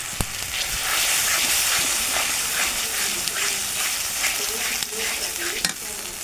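Chicken frying in a pan with a paste of sour yogurt, tomato sauce and green chili, a loud continuous hiss and sizzle with occasional stirring scrapes, close up.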